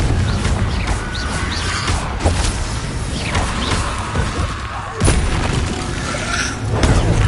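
Confringo fire spell blasts in Hogwarts Legacy, loud booming explosive bursts with crashing impacts that repeat over dense, continuous combat noise.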